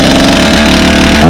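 Stihl chainsaw engine pull-started at half choke, a loud, close, steady motor drone that fills the short moment with no pause and no voices.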